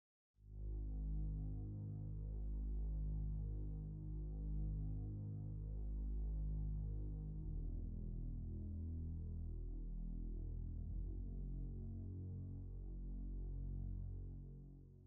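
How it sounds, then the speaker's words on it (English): A deep, sustained detuned synth bass drone from the Direct Wave plugin with a thick, slightly wavering tone, playing steadily and loud on its own for about fifteen seconds before fading. "Here is what the bass sounds like."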